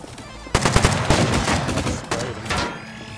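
Loud bursts of gunfire from the survival game Rust, rapid cracking shots in a cluster of several quick reports followed by a couple of later shots, close and sharp with no talk.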